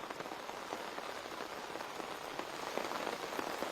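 Rain falls steadily on a road in Delhi, a dense continuous hiss of drops with no let-up, heard alone.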